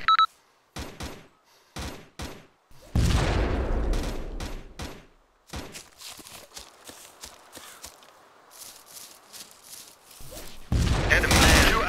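Weapon fire in ArmA 2 with a Stargate mod, sharp bursts and rapid volleys of shots broken by short pauses and a brief higher energy zap, loud and close with little else around.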